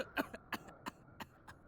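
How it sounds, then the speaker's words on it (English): A person in a horror game setting gives a drawn-out wet cough, heard as a run of five or six short, quiet rasping bursts spaced evenly apart. "I cough, long and drawn and wet"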